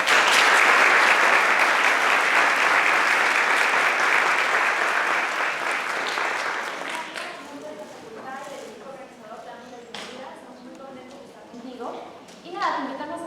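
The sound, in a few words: audience applause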